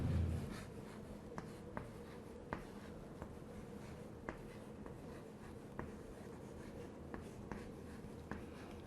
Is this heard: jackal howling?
no